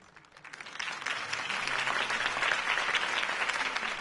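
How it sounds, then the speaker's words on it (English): A crowd at a campaign speech bursts into applause, building quickly and then sustaining steady, loud clapping. "could have heard that applause"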